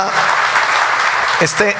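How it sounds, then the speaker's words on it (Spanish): A forum crowd in Villavicencio, Meta applauds with a brisk, dense wash of clapping, while a voice speaks over it and briefly rises near the end. "Y ese es un aplauso que merecen ustedes"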